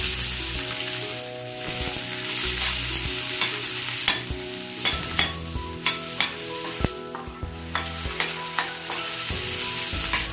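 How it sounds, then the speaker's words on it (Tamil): Finely chopped onions sizzle steadily in hot oil with fennel seeds, with occasional sharp scraping and stirring clicks from a spatula growing more frequent toward the end. "வெங்காயம் ஒரு 2 நிமிஷம் நம்ம நல்லா வதக்கி விட்டுறலாம்"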